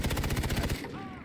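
Rapid automatic gunfire in Far Cry 3 rattles out in a fast, evenly spaced string of close, loud shots before cutting off abruptly into a short ringing tail.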